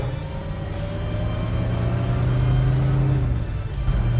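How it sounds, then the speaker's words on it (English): A muscle car engine with a stainless steel factory exhaust idles and revs steadily, giving a loud, close, sharp, hollow drone with a slight swell in the middle. "It's a factory exhaust, but it's stainless steel, and stainless steel just always has a different tone to it."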